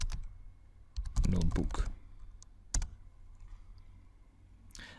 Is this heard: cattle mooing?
no